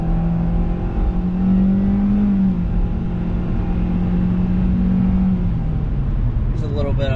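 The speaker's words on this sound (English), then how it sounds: "There's a little bit of a rolling acceleration there." A 2023 Kia Forte on a twisty road gives a steady, fairly loud engine drone that rises gently in pitch during a rolling acceleration, with a voice talking over it.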